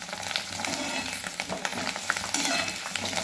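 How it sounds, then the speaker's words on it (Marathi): Papdi, thin crisp dough pieces, frying in hot oil in a pan on a home stove, giving a steady dense sizzle and bubbling crackle close up, with faint stirring scrapes and no voices. "बघा मी आणि पापड्या टाकून आता तळून घेते।"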